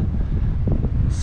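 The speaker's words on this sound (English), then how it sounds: "Super windy." Strong wind buffets the microphone on a fishing boat off St. Augustine, a dense, continuous roar that fills the short moment with no speech.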